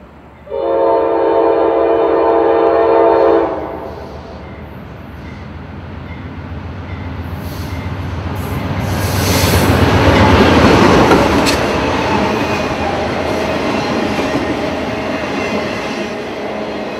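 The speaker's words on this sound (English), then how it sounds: "Here is Q237 coming out of Woodland southbound with loaded auto racks for" A CSX freight train, Q237, hauling loaded auto racks southbound out of Woodland sounds a long horn blast, then its heavy rolling rumble builds and holds as the cars pass close by, with no voices.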